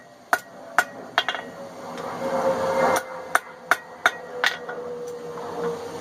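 A blacksmith's hammer strikes hot steel on an anvil while forging tongs and a hardy tool, about nine sharp ringing blows in an irregular rhythm, with a brief rumble of shop noise between them.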